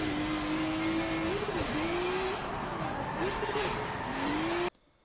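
A BMW race car in Forza Motorsport 7 revs hard through repeated rising engine pulls and gear shifts, loud and continuous, with a high whine creeping in before the sound cuts off abruptly.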